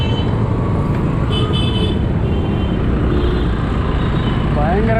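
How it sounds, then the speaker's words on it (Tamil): Heavy city traffic in Chennai rumbles close by, with engines droning and several car and bus horns tooting and honking repeatedly over the steady roar. "பயங்கர டிராஃபிக்குங்க."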